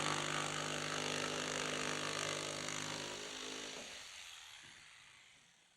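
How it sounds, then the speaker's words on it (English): A jigsaw buzzes loudly as it cuts a window opening through plywood sheeting on a framed tiny house wall, a steady high whine that fades and stops after about four seconds. "Now we're ready for the jigsaw."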